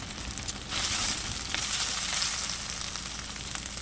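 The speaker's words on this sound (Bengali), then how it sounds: "এবার দেবো আদা বাটা আর রসুন বাটা দিয়ে ভালোভাবে নেড়ে দেবো।" Ginger and garlic paste stir-fried in a pan for chicken curry, giving a loud, continuous sizzle with brief scraping and stirring sounds, close up and without speech.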